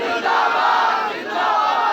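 A large crowd at a Sunni religious gathering shouts a religious slogan in unison, a loud, sustained collective roar lasting about two seconds with a brief dip midway.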